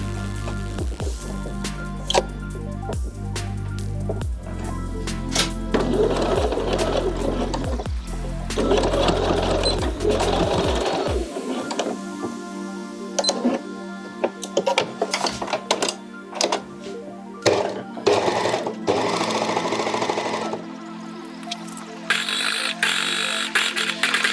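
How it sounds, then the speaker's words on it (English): An overlocker serging the side seams of a bodysuit runs in a steady mechanical whir, with a low hum in the first half giving way to lighter, stop-start clattering bursts later. "And then after that we can go to the overlocker and overlock the side seams."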